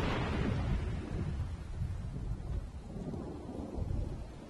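A Skyrim rainstorm brings deep rolling thunder that rumbles and swells in slow waves over a continuous wash of rain, fairly quiet and with no talk.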